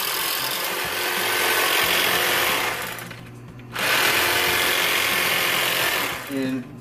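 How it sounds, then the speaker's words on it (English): A fish scaler scrapes kernels from a fresh corn cob in a home kitchen, producing two long, loud, continuous rasping passes separated by a short pause, with a brief voice at the end. "You scrape it with this here. Fish scaler."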